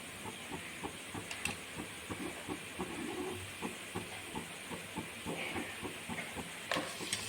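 Ginger garlic paste sizzles with onions in a pan for vegetable pulao, a soft, quiet hiss with regular light taps running throughout.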